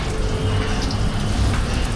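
Water runs from a tap into a container on a bikepacking trip toward the Kyiv Sea, a steady close splashing and gurgling flow that holds for the whole moment.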